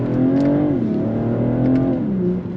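A car on snow tires accelerates in a smooth, comfortable pull, its engine note rising and then dropping as it shifts, a steady close drone with no talking.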